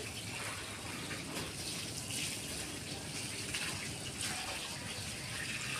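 Water gushes steadily from a running pump motor's outlet in a loud, continuous rushing splash that never lets up, with no voices over it.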